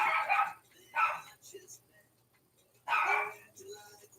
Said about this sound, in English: Sorry about the dog in the background, I have 4 chihuahuas.